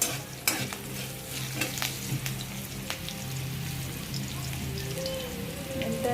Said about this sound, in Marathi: लसूण टाकलेला आहे. थोडंसं हलवून घ्यायचं.